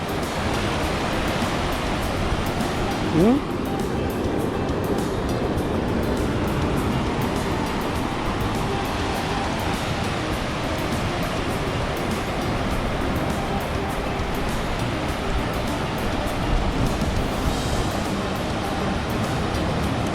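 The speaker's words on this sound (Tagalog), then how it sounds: "Naririnig ko lang yung alon." Steady broadband rush of ocean waves and surf on Boracay, continuous and fairly loud throughout, with a brief thump near the start.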